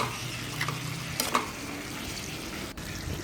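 Fried pork belly with tomato sauce is stirred in a pan, giving a soft sizzle with a few scraping strokes and a light clatter, fairly quiet and close.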